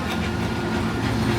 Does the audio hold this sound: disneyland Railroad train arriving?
yes